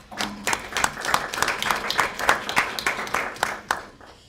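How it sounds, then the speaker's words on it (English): Applause at a school board of education monthly meeting in Stratford: a modest room of people clapping in uneven, separate claps, moderately loud and fairly close, lasting a few seconds before tapering off. "I think that deserves a round of applause."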